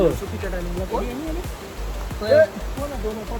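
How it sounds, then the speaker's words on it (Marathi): Heavy rain pours near the hidden Kunkeshwar Katvan (Nhavnkond) waterfall, a steady broad rushing hiss that runs continuously beneath several people talking close by. "हा लय पाऊस पडता आम्ही चुकीच्या टायमिंगला"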